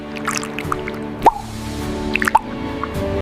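Lemon juice squeezed from half a lemon into warm cumin water, giving a few close, wet drips and small squishy splashes over a quiet background.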